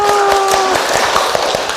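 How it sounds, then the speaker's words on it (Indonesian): Classroom applause as a group of students claps together, a dense burst of hand claps close and fairly loud, with a brief tone fading out at the start. "Tepuk tangan dulu."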